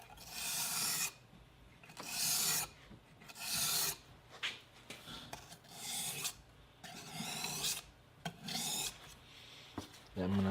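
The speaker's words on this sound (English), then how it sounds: "I'm going to finish it up with the hard Arkansas stone" A knife blade is sharpened on a hard Arkansas stone, giving repeated rasping strokes in steady bursts about a second long, with brief pauses between them, close and clear.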